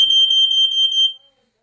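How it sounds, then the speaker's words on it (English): A smoke detector sounds a loud, piercing electronic tone with a rapid pulsing warble for about one second, then stops and leaves silence. "in case the fire alarm sounds"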